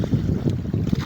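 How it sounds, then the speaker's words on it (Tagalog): A strong north wind buffets a fishing boat at sea at night, a close, rough rush of wind noise with water sloshing underneath, lasting only a moment. "Lakas ng norte."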